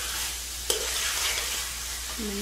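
Mutton added to a pot for biryani sizzles and fries with a steady broadband hiss, a brief sharp clatter near the start and a faint voice toward the end.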